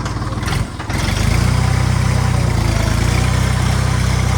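A Jinma 244 tractor's diesel engine rumbling, briefly dipping before settling into a loud, steady throb as it pulls away in a mountain setting, close and continuous without talk.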